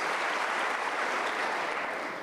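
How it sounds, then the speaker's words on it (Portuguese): Church congregation applauding during a sermon, a brief, steady wash of dense clapping filling the room at an even level. "Dá um aplauso para Jesus"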